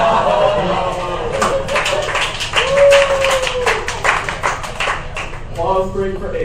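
Dense crowd clapping fills a stand-up comedy show, a steady burst of hand claps with cheering voices mixed in, loud and close, rising and then easing off toward the end.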